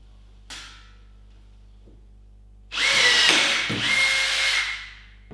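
A Makita cordless rivet gun sets a rivet, giving a loud whirring mechanical burst of about two and a half seconds after a short earlier click, with no talk.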